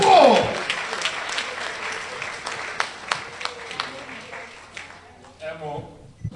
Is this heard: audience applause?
yes